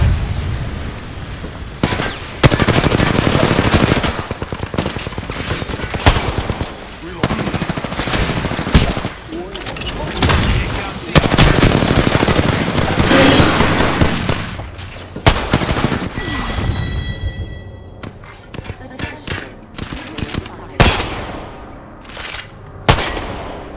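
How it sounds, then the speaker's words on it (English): Dense gunfire in Apex Legends, sustained automatic bursts and heavy booming shots overlapping for most of the stretch, loud and close, thinning into scattered sharper reports near the end with no talk. "Taking fire, brothers. Taking a shot."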